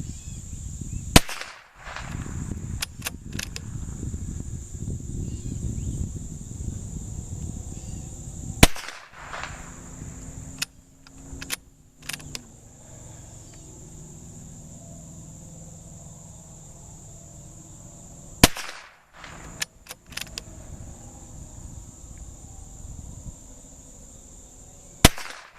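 Sharp .22 rifle shots ring out outdoors in two separate clusters, each a quick group of cracks set apart by long stretches of quiet ambient insect buzz.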